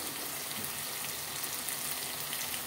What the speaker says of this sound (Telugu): ఇప్పుడు మనం ఏం చేద్దామంటే జీలకర్ర పొడి వేసుకుందామండి.